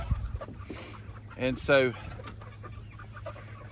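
Chickens of the Bresse breed clucking in a garden, brief calls standing out over a steady low hum, with a person speaking a couple of words.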